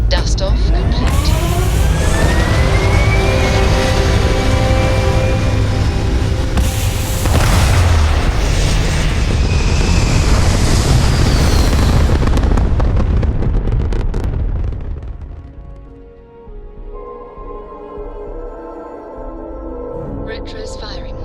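Spaceship blastoff and retro rocket burn in the game Starfield: a loud, sustained roaring rumble with booming bursts for about fifteen seconds, then fading to a lower hum with faint tones.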